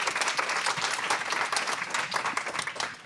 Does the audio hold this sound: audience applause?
yes